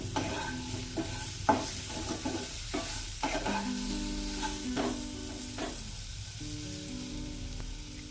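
Shingi fish frying in hot oil, a constant close sizzle punctuated by regular scraping stirs against the pan, then a calmer bubbling hiss toward the end, with no talking.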